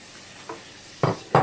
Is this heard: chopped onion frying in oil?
yes